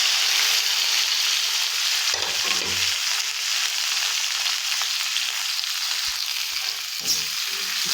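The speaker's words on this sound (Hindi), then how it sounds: "ये तेल मैंने गरम करने के लिए रखा हुआ है। इसमें मैं ये भिंडी और मसाले डाल दूँगी।" Okra and spices sizzle steadily in hot oil, a continuous bright frying hiss that is loud and close throughout, with brief stirring disturbances and no voices.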